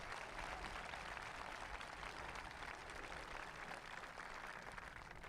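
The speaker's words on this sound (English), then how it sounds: "So I'd like to give a round of applause for them," Sustained applause from a crowd at a Danvers High School Class of 2022 graduation ceremony, a steady, even wash of clapping heard from a distance, with no break or rise.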